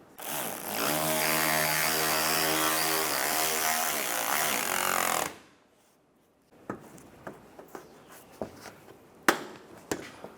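A power tool drives and tightens screws during a clutch slave cylinder replacement on a 2005-2010 Chevrolet Cobalt, a loud steady whirring run of about five seconds, then a pause followed by clicks and handling clatter.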